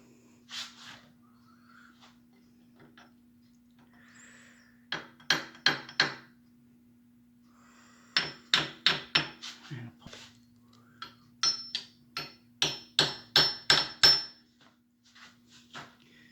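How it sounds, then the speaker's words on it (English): A brass hammer strikes metal on a Triumph TR6 during rear oil seal work, giving sharp, close taps in bursts of three, then a longer run of about six, then steady repeated blows over a faint constant hum. "I'm going to use a brass hammer."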